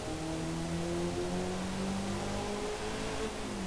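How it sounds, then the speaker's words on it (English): A Mazda MX-5 with a sport exhaust in the Forza Motorsport racing game, engine droning and revving steadily with shifting pitch, loud and continuous with other cars around. "that exhaust, sport exhaust, now helping power us along"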